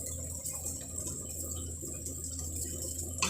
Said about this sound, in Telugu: ఇంకా నీళ్ళు వేస్తాము.